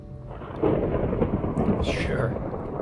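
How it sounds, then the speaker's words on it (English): Thunder in Minecraft rolls as a long, deep rumble during a thunderstorm. It starts moderately loud and stays steady for a few seconds, with no voice over it. "Sure. Thunderstorm."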